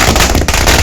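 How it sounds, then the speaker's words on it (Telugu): Firecrackers set off in a public celebration outside a police station, a loud, dense rapid string of bursts popping in quick succession. "టపటపటపటపని టపాకాయలు జోరుగా వేల్చిండ్రు."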